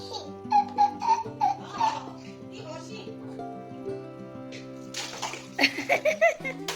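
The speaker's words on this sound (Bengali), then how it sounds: "চলো চলো, মগে করে জল নিয়ে গায়ে ঢালতে হয়।" A mug pours water over a young child during a bath, giving soft splashes and trickles beneath the child's giggles and an adult's chatter, with music playing nearby.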